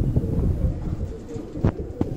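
Racing pigeons coo softly on their bath day, low murmuring calls repeating irregularly close by, with a couple of brief sharper flutters or taps near the end.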